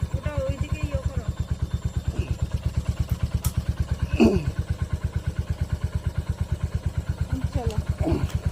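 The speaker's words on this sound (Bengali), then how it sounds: "আমার বাইকের আওয়াজ শুনলেই চলে আসবে।" A motorcycle engine runs close by in a steady, even, rapid putter, with a couple of brief faint background noises over the idle.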